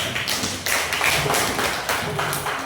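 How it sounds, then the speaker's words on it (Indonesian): Classroom applause after a student group's presentation, a dense run of hand claps from a roomful of people, steady and fairly loud, with a few louder bursts. "Beri tepuk tangan untuk kelompok 1."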